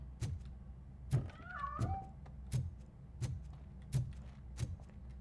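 A cat meows in the video game RoboCop: Rogue City, two short rising mewls near the start, amid a steady rhythm of heavy mechanical thumps and clanks roughly every half second.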